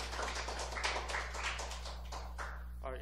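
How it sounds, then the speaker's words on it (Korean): Applause from the audience at a Korean media-week commemorative panel discussion, a steady wash of many hands clapping throughout over a low hum, fading near the end. "큰 박수 한번 주시기 바랍니다."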